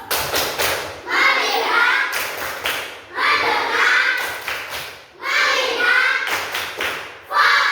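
A classroom of children does a rhythmic focus clap, with quick clusters of claps and thumps alternating with loud chanted group phrases, repeating in three or four close, energetic cycles.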